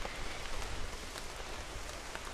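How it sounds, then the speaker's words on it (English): Steady rain pours down at Kuning waterfall in Bali, a dense, even hiss of drops on surfaces filling the whole stretch without pause or voices. "it's really raining right now."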